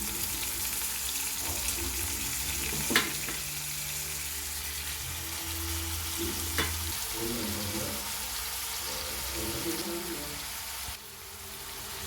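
Raw prawns sizzle and fry steadily in a pan with garlic paste, a continuous close crackle with occasional sharp clinks of a utensil and stirring throughout.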